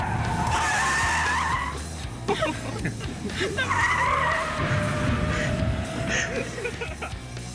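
A training car is made to skid with simulated loss of grip, giving long, loud tire squeals that rise and fall over several seconds, with engine noise and rumble underneath.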